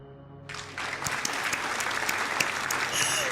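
Applause sound effect triggered on a livestream bursts in after a half-second of quiet, a dense steady clatter of many hands clapping that holds loud and even to the end.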